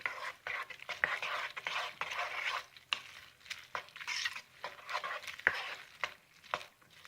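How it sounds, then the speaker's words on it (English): Sausage chunks are stirred and broken up in a pan, with soft frying and a series of intermittent scraping clicks from the utensil against the pan, fairly quiet and close. "see how those nice sausage chunks are just being broken up?"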